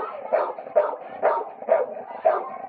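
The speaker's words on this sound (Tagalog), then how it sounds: "Sa isang evacuation center, may sariling pwesto ang mga inilikas na aso." Dogs rescued from flooding and sheltered at an evacuation center bark in a steady rhythm, five or six close, evenly spaced barks with slight whimpering between them.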